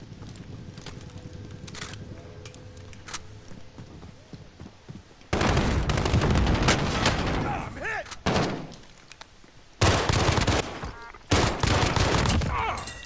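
Pistol and other gunfire in Call of Duty: Modern Warfare, quiet scattered shots at first, then loud dense bursts of firing from about five seconds on, with sharp repeated cracks and brief pauses between volleys.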